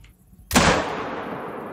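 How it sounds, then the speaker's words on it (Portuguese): A single loud rifle shot fired at a buffalo 300 metres away in a hunting video game, with a sudden sharp crack followed by a long, fading rumble. "Eu vou dar nela mesmo, porque ela tá de lado."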